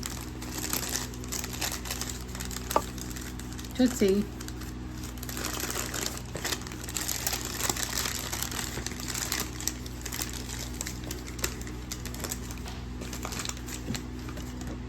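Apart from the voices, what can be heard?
cat playing with crinkling paper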